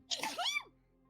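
A single sneeze lasts well under a second, sharp and breathy with a quick pitched rise and fall, quiet and close, with no talking around it.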